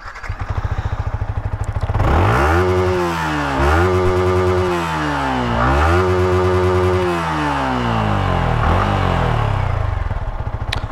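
A Yamaha R15 motorcycle engine fires up and settles into a steady exhaust note, with several throttle blips rising and falling in pitch, loud and close throughout.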